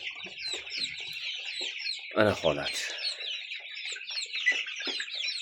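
Two-month-old black Andijan chickens for sale in Yakkabog, Kashkadarya, fill the air with dense, continuous peeping and clucking from a close flock, while someone speaks briefly over them.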